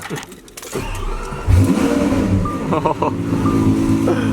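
A Lamborghini Aventador SVJ engine cranks and fires with a sudden loud bark, then settles into a strong idle with brief rising revs, close by, while people talk over it.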